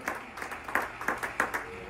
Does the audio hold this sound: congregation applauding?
yes